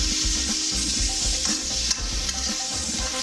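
Fried rice with peas and light and dark soy sauce frying on high heat, a loud continuous sizzle with repeated scraping stirs of the spatula running through it.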